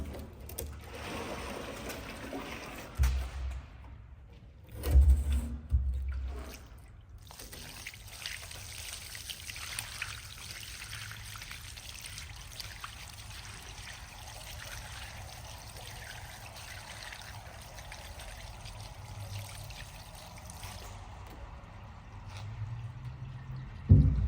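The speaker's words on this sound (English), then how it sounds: "I'm gonna dump some of this vinegar out" Vinegar is poured out of a rusty Mazda RX7 fuel tank, giving a gurgling splash and pour that is loudest early on, then settles into a faint steady trickle, with handling noises at the start and end.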